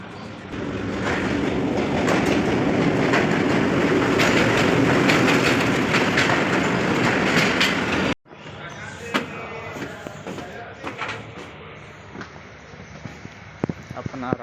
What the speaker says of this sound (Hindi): तो आपको दिखाते रहते हैं ट्रेन का सफ़र